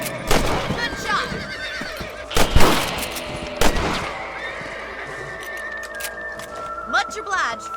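Rifle shots in Red Dead Redemption on PS3 while hunting rabbits, several loud cracks spaced over a few seconds, mixed with horse whinnies and hoof sounds, with voices talking.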